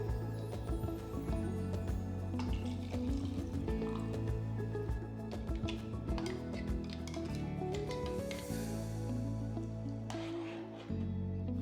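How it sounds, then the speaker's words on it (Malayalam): Tamarind water for a varutharacha sambar is poured into a mixer jar, making soft liquid splashes and drips that sit quietly under a steady musical background. "ഈ പുളിവെള്ളം തന്നെ ചേർത്തത് ഒന്ന് മിക്സ് ചെയ്തെടുക്കുക മിക്സിയുടെ ജാറിലേക്ക്"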